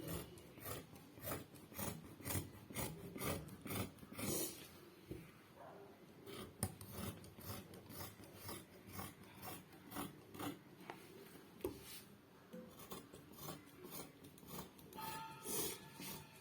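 Scissors snip through saree blouse fabric in a steady series of close rasping cuts, with slight pauses between strokes and no voices.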